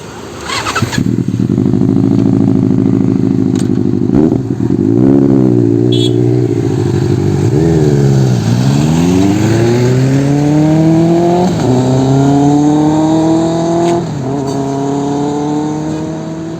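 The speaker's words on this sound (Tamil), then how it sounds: "சூப்பர் பைக்கோட சவுண்டை பார்த்தீங்கன்னா கேட்டு வந்துருப்பீங்கன்னு நினைக்கிறேன்" A Benelli superbike engine fires up close by, idles, and blips through several sharp revs. Each rev rises in pitch as the bike pulls away, loud and alone without any talk.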